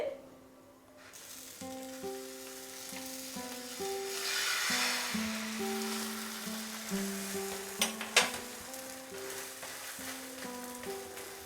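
A roti with a cracked egg frying in a pan over medium heat, giving a steady, close sizzle that swells in the middle and carries occasional sharper crackles, with background tonal music.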